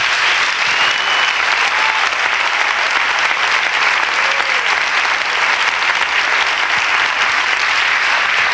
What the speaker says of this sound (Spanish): Démosle palmas fuertes.